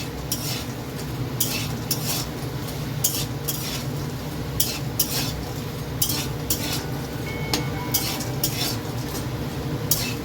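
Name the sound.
frying bori lentil dumplings in a pan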